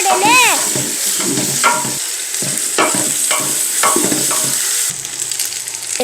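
Loud stirring and frying of biryani masala with ginger, garlic and spice powder, close scraping strokes over a constant sizzle, with faint voice-like tones at the start.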